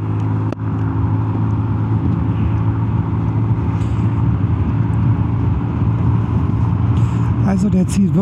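A Zontes 350E motorcycle engine drones steadily under close wind noise, with a rising rev near the end as the bike pulls away in eco mode.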